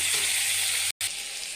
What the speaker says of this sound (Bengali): আলু এখন ভাজি লই।